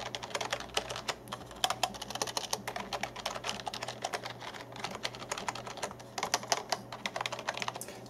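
Rapid, continuous typing on a quiet Hama uRage Exodus gaming keyboard, with soft, muted key clicks in a quick irregular rhythm.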